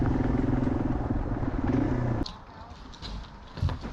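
Yamaha dual sport motorcycles, an XT225 and a DT50, ride a woodland trail in Belfair, Washington. A close engine drones for about two seconds and then cuts out, leaving light rustling and clatter.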